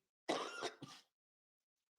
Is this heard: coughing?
yes